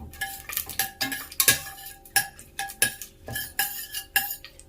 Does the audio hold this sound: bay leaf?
yes